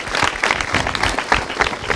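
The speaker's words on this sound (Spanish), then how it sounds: "un aplauso" A television studio audience applauds, a loud, close mass of clapping hands with an uneven, crackling texture that carries on steadily throughout.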